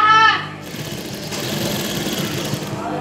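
A sewing machine runs steadily, stitching a border edging onto net fabric, its fast mechanical whirr continuous after a brief louder opening burst, close and alone with no talk.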